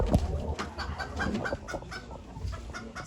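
Chickens and roosters at a poultry auction in Ankara cluck and squawk in a busy, overlapping chorus, with sharp calls rising from a continuous flock murmur close by.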